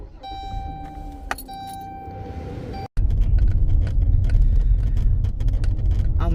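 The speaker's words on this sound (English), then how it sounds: "then it was time to get in the van and start it up" A van's engine is started up: a quiet cabin with a steady ignition chime and a jingle of keys, then an abrupt break into a loud, continuous engine rumble that holds steady close by.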